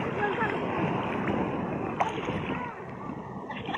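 Calm, gentle sea waves washing at an island beach in Mazatlán, a soft continuous wash of water with small splashes and faint background voices.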